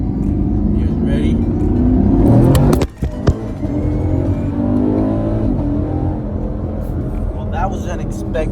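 A 2017 Chevrolet Camaro SS in track mode with traction control off launches hard from first gear, its engine roaring loud and close as it revs up, drops briefly on a shift and pulls again, while people talk over it.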